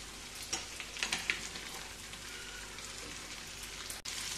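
Onions fry in a pan with Kashmiri red chili powder for a dhaba-style Bihari aloo parwal sabzi. The soft, steady sizzle has a few light stirring clicks near the start and a brief dropout near the end.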